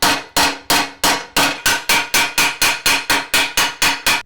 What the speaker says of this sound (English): we'll go in with a smaller ball peen hammer